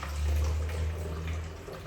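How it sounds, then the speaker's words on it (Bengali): Tap water running steadily into plastic bottles at home, a continuous close rushing flow with a low hum beneath, alone without talk. "এখন জল ভরে রাখি যে কটা বোতল আছে"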